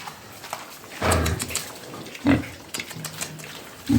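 Pigs in a pen grunt and squeal in short bursts, fairly close, with quiet gaps between calls.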